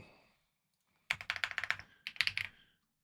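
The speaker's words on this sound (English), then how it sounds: "Now I can just start typing." Close, quiet typing on a computer keyboard comes in two quick bursts of rapid clicking keystrokes with a short pause between them, with no voices.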